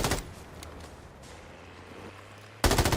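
Loud bursts of gunfire open and close the clip, with a low rumbling armored car engine hum in between; sharp, dense shots typical of Call of Duty: Modern Warfare III Warzone combat.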